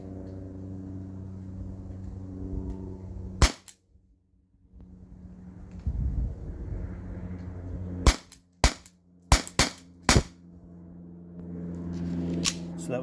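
A T4E HDP50 Gen 2 air pistol fires orange nylon balls, giving sharp, loud cracks: one single shot, then a quick burst of five close together, over a low background hum.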